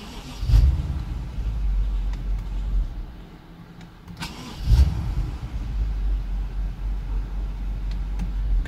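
A BMW N46 Valvetronic four-cylinder engine idles unevenly, its low rumble wavering and dipping, with a couple of heavier thumps as the running stumbles and recovers.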